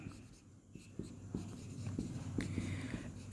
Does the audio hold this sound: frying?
no